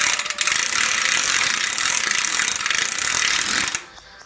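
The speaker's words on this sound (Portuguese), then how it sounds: "quando eu paro de pedalar, olha o barulho que faz" A modified BMX bike's rear hub clicks rapidly and continuously while coasting or backpedaling, a loud, close, buzzing ratchet that stops abruptly near the end.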